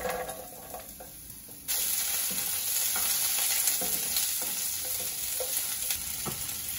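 Carrots and green beans hitting hot oil in a pan for red curry fried rice, a sudden loud sizzle that then continues steadily with stirring scrapes, close up.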